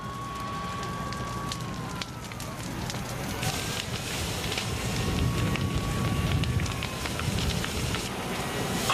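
A wildfire burning at Harmony Grove near San Diego in Southern California: dense crackling and roaring that swells louder over the stretch, with a narrating voice speaking over it.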